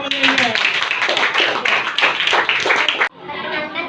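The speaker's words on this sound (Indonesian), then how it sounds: "Tepuk tangan buat kelompoknya Ines." Classmates in an elementary school classroom clap in a dense burst for a student group for about three seconds, then it cuts off abruptly.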